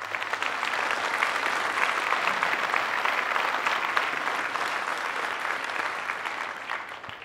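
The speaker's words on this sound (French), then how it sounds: "et on peut les applaudir." An audience at a New Year's greetings ceremony applauds steadily, a dense sustained clapping from many people that carries on alone before tapering slightly at the end.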